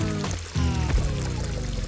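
Shower water pouring steadily and loudly, close up, its flow shifting briefly mid-stream, with no voices.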